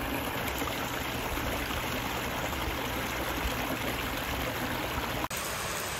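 Water flows steadily in a renovated garden pond in Washington, Michigan, a continuous close rushing trickle with no voices.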